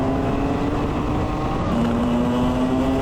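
A Club100 racing kart engine at Bayford Meadows drones loud and close with a steady high-pitched whine, a slight pitch shift midway as it runs among a group of karts.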